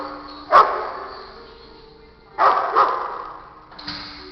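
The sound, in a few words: dog barking at dog daycare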